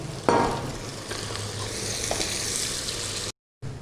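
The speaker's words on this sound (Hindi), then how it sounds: "ऑयल हमारा गर्म हो गया, इसमें हम प्याज डाल देंगे।" Chopped onions drop into hot oil for a beef biryani and burst into a sharp, close sizzle that settles into a steady crackling fry before a brief cut near the end.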